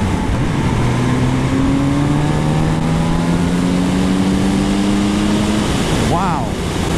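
Kawasaki Z900RS motorcycle engine revving up past 5000 rpm, its rising tone climbing steadily for several seconds over loud wind rush before a quick shift; a rider talks throughout.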